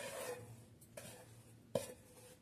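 Melted jaggery being stirred into a sweet potato mixture for arsalu, a soft scraping and rubbing stir with two sharper knocks of a utensil against the pot, close and fairly quiet, no talk.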